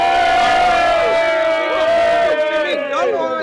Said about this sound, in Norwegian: Og så må de juble litt.